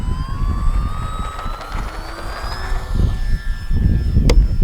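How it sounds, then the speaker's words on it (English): An Arrows RC T-28 1100mm model airplane flies past with a steady electric whine that rises in pitch, under a constant rush of wind noise outdoors. "She is still an awfully light little plane."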